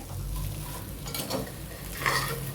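Gobi manchurian gets stirred in a hot pan, with a soft scraping sweep and light sizzle over a steady low hum, one brief spoon clatter near the end.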